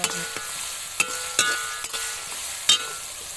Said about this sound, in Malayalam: എണ്ണ ചൂടായപ്പോൾ ഇഞ്ചി വെളുത്തുള്ളി പേസ്റ്റ് സബോള അതിലൂടെ കുറച്ച് ഉപ്പും കൂടി ഇട്ട് നന്നായി വഴിച്ചു